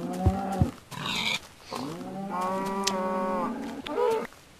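A Minecraft cow moos several times in drawn-out, tonal calls, loud and close, with short gaps between calls and no talk over them.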